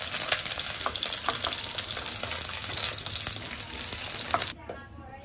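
Cumin and chilli sizzle in hot oil in a pan for cauliflower and potato, a steady crackling fry with sharp pops and stirring scrapes, moderately close, before the sizzle suddenly drops away near the end.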